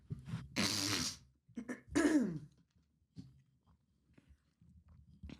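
A few harsh coughs and throat-clearing bursts come close to the listener, separated by short pauses and quiet breaths.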